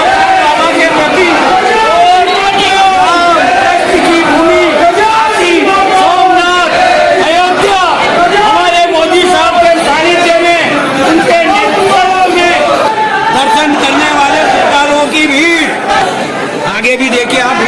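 A dense crowd of devotees at the Mahakal temple on a Sunday, a loud, continuous babble of many voices with shouts and calls rising out of it throughout.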